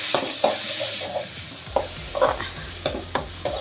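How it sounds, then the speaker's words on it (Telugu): Leafy greens frying in a pan, a hissing sizzle broken by repeated clattering stirs of a spatula against the metal, close and without voices. "ఆకుకూర ఇదంతా వేయించుకుందాం"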